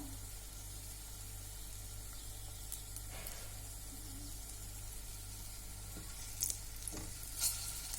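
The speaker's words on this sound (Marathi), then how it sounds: "सर्व बाजूनी छान फ्राय करून घेऊया डीप फ्राय डीप फ्राय पण तुम्ही करू शकता" Bread veg cutlets fry in hot oil with a constant, faint sizzle and hiss, steady throughout with a couple of slightly sharper crackles near the end.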